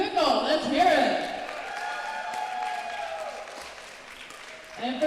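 A pickleball event crowd claps and cheers for Team Chicken and Pickle, a burst of applause and whoops that swells briefly and then thins into scattered clapping.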